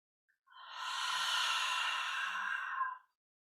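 One long, deep breath drawn in during a breathing meditation, a smooth airy rush lasting a few seconds, close and soft, with no voice.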